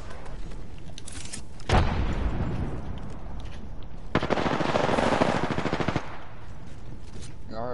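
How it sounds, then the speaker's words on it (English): Gunfire and a grenade blast in the video game Apex Legends: bursts of rapid automatic fire with a louder blast near the two-second mark, then another sustained dense burst around four to six seconds, loud and close throughout. "Tossing a grenade."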